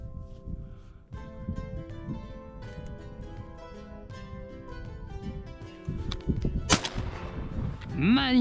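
A single sharp gunshot during a February wood pigeon hunt cracks out loudly near the end, over a steady outdoor background hum.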